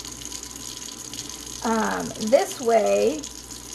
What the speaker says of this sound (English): Run a little water over it like this